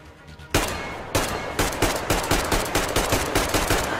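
A shotgun firing at the player in Metro Exodus: a couple of heavy, sharp blasts, then a rapid run of loud shots in quick succession, close and harsh, with no talking over them.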